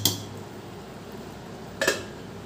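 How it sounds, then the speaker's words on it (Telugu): Lid set back onto a cooking pot of eggplant curry: a sharp metallic clink at the start and a second clattering contact near the end, close, over a quiet kitchen background. "మళ్ళీ మూత పెట్టేసుకుని"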